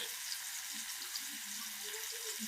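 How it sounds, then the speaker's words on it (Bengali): Chili, ginger and garlic paste frying in a pan, giving a faint, steady sizzle that stays soft and even throughout. "ভালো করে এবার ভাজবো"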